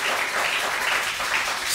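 A church congregation applauding loudly and steadily during a worship service, a dense continuous wash of clapping with no talk over it.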